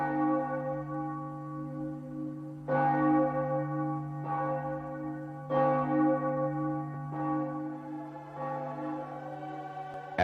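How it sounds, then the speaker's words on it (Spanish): Church bells over a town toll the afternoon hour at three, several slow, resonant strikes spaced a second or two apart, each ringing out and decaying into the next, heard clearly with no voices. "sobre la ciudad, las campanas tocaban la hora vespertina"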